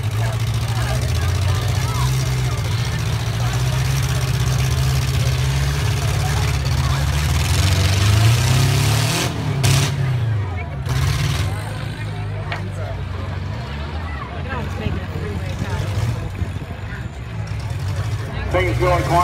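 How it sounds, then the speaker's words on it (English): Demolition derby car at a county fair, its engine running steadily at idle, a loud continuous low rumble with a commentator talking over it throughout. "Things going quiet for Michael Smith. Running but not moving"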